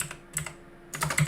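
Quick taps on a computer keyboard during a coding session, a short burst of clicks, a pause, then another rapid cluster of keystrokes, close and fairly soft.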